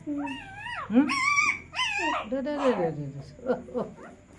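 A mother dog with newborn puppies whimpers and yips in a run of high, wavering, whiny cries, fairly close, with no talking.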